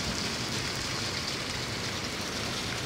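Heavy rain falls in Saudi Arabia as a constant, broadband roar of drops with no pauses, close and even in level.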